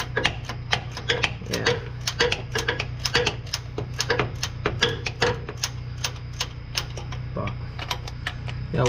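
An impact tool works on a bolt of an R Model Mack truck, giving rapid, evenly spaced sharp rattling clacks close by over a steady low hum, with no one talking.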